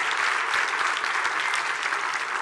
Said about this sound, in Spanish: Un aplauso para todos ustedes y gracias por la respuesta, Contralor Trinidad Alejandra